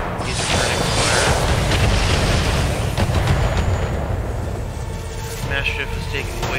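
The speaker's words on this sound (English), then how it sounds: "He's returning fire." Enemy mech returning weapons fire in the modded Battletech game: dense, continuous booming explosions and weapon blasts rumbling loudly throughout, with a voice talking over them.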